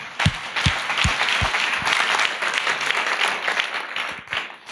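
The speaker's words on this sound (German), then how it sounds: "Gebt euch einen Applaus." Church audience applause at a Munich congregation service, a full dense burst of clapping with a few sharp close claps on top, staying loud and tapering slightly near the end.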